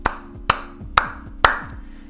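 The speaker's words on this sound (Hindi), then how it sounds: "मैंने तालियां बजाई है" One person clapping hands alone beside a new 2020 Mahindra Thar: four sharp, evenly spaced claps close by, over a low, steady mechanical hum, with no talking.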